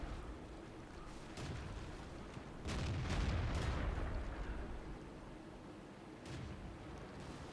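Artillery shells exploding in a World of Tanks battle, a few deep, booming blasts and rumbling impacts at moderate distance over a low steady background, with no voices.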